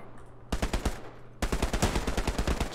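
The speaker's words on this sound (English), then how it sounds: "He's shooting up here." Machine gun fire in the Hell Let Loose video game: two sustained bursts of rapid, loud automatic shots, the second longer and following a short gap.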